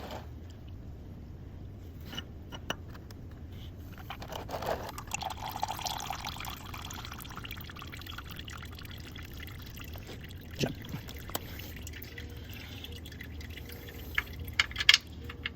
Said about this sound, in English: we're going to wait until the oil drains a little bit more